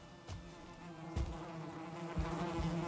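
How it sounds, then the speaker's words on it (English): A bee buzzes in Valheim, a close, continuous droning hum that holds steady, broken by a few soft thuds. "Is this a bee?"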